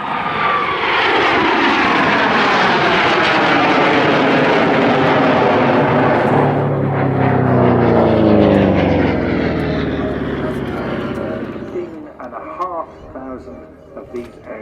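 A propeller warplane at an air show roars past on an attack run with rockets and bombs, its engine swelling loud then dropping in pitch as it moves away, with a commentator talking over it.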